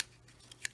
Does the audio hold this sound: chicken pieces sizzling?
no